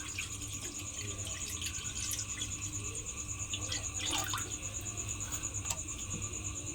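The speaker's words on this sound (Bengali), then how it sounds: "এবার আমি কড়ার মধ্যে দিয়ে দেব জল।" Water is poured from a tap or jug into a kadai set on a lit gas stove, a steady trickling splash running throughout at moderate, close-up level over a faint hiss.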